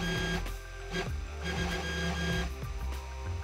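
Sunhokey Prusa i3 3D printer with its Z axis driving downward, giving a steady whining stepper-motor drone with faint rhythmic mechanical pulses, close and continuous with no talk.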